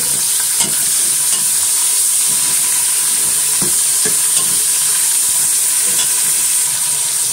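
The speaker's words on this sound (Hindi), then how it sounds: "अब इसमें मैं कीमा ऐड कर दूंगी ताकि कीमा भी हमारा अच्छा सा फ्राई हो जाए" Minced meat (keema) frying in a pan gives a steady loud sizzle and hiss, with a spoon stirring and scraping at irregular intervals, close up and with no talking.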